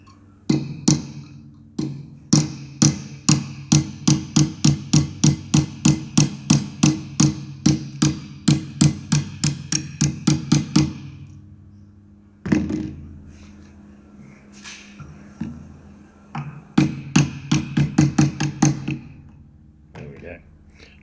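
A hammer drives a roll pin punch against a hydraulic filter bypass valve clamped in a vise with aluminium jaws, giving rapid runs of sharp metallic taps, dozens in steady rhythm, broken by a pause and resumed, close and loud.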